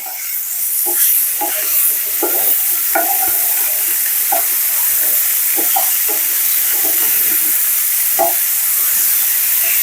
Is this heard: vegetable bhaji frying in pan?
yes